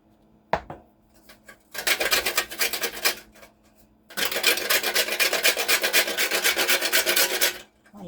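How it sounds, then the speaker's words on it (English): Cinnamon grated by hand for a sponge cake mixture, giving two long bursts of steady, fast rasping strokes, close and fairly loud, with a short scrape and a pause between them. "You can grate the cinnamon."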